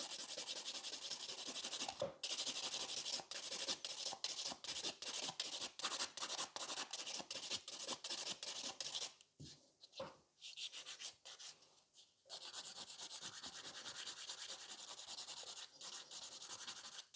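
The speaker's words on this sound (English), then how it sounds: "I really love the smooth of the file, like when you're filing the entire surface of the free edge." A nail file smooths the surface of an artificial nail's free edge, giving steady close rasping strokes in a quick regular rhythm with a few brief pauses.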